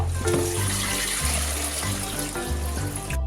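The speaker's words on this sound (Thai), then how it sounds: "เราจะต้องล้างผ่านน้ำนะคะ" Soaked beans are rinsed under running water in a home kitchen, with a steady, moderately loud stream broken by a few splashy shifts.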